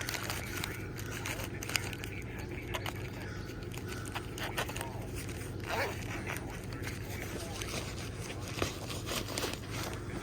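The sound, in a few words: YKK zippers on an EDC pouch being opened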